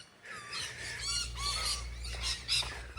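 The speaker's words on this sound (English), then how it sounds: "Lots of birds around." Many birds squawk and screech inside an Australian aviary, their harsh, overlapping calls loud, close and continuous with no pauses.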